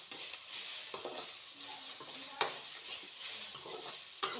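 Sliced okra sautéing in a pan with salt, giving a soft steady sizzle with occasional spoon scrapes and clicks, faint and close, with no talking.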